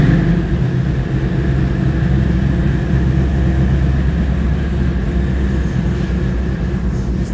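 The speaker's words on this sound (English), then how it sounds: "why don't we start with a little engine sound, huh?" A restored old Chevy C-10 truck engine idles steadily with a low, rumbling drone that stays constant and fairly loud, with no voices.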